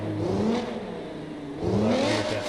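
A car engine in the BeamNG driving game starts up and revs, rising in pitch twice with a dip in between, loud and close with no one talking.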